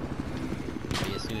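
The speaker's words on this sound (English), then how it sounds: "I tried a kamikaze helicopter, which is hovering so low" A helicopter hovers low in a video game, its steady rotor roar filling the clip and thickening in a louder burst near the end.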